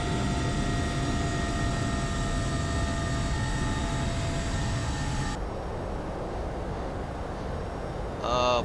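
Steady airliner engine drone in the flight simulator X-Plane 11, a constant whine with tonal hum that drops in pitch partway through, followed by a brief higher electronic chirp near the end.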